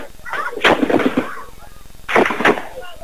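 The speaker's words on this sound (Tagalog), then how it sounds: "Pero malingaw ang sunod-sunod na putok, kaya mga tao kanya-kanyang dapa" A few sharp gunshot cracks ring out in succession, with voices audible around them.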